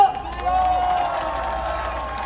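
Crowd at a political rally in Gwangju clapping and cheering, a steady dense wash of applause with a tonal whistle-like line early on and a voice mixed in.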